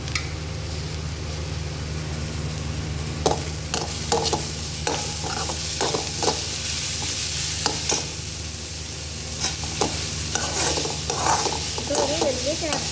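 Chopped capsicum sautés in hot oil for chicken fried rice: a steady loud sizzle runs throughout, with a spatula scraping and tossing in irregular clatters over it.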